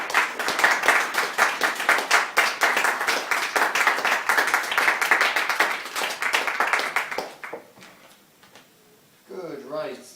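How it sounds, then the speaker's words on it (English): Audience applause at an open-mic literary salon in a Newcastle bar, dense steady clapping for several seconds that thins out and fades, with a brief voice near the end. "Another round of applause, please, for Richard Atkinson."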